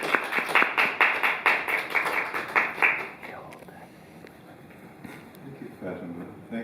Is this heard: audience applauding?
yes